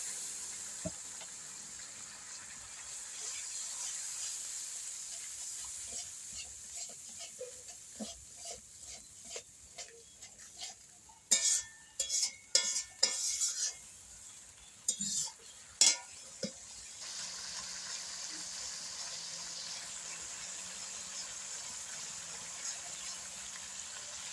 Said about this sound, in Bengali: এবার জল দিয়ে দেওয়া হচ্ছে।